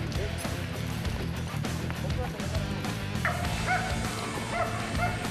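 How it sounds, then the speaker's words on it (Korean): Rescue dog barking fiercely while running during a mountain search on Gwanaksan, sharp repeated barks and yips close by over heavy footstep and movement noise, with people talking briefly. "갑자기 뛰기 시작하더니 맹렬히 짖기 시작하는 백두."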